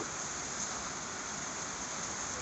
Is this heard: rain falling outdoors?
yes